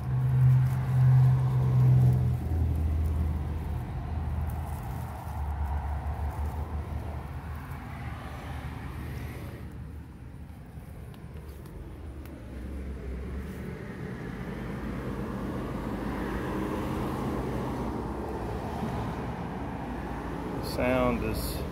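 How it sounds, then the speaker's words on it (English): Heavy street traffic rumbles steadily and loudly throughout, a dense low roar of passing vehicles that swells slightly near the start and end, with no distinct pauses. "So much traffic."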